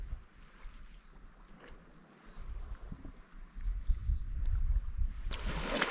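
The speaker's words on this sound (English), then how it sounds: "A little bit of breeze." Light breeze rushes past a boat heading back to the beach, a low wind rumble that swells into a louder gust near the end.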